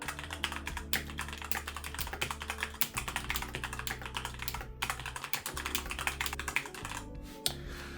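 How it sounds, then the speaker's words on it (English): Rapid, continuous typing on the SteelSeries Cherry MX mechanical keyboard of a 2017 MSI GT83 SLI gaming laptop, dense clicky keystrokes close up with a steady low hum beneath, no voices. "this is a SteelSeries Cherry MX keyboard"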